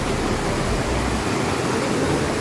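A small waterfall or stream crossing on a forest trail up Parasnath hill in Jharkhand gives a steady, broadband rush of flowing water, constant and fairly close, with no voices.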